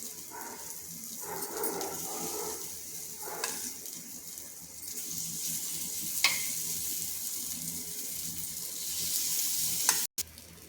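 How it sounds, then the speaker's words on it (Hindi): Vegetable batter is poured onto a hot tawa over medium gas, giving a soft continuous sizzle with a few scraping and clinking spoon sounds, faint and fairly quiet, with a dog barking briefly in the background. "इसी तरह से सारे बैटर को सब अपने तवे में डालेंगे।"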